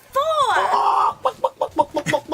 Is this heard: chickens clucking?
yes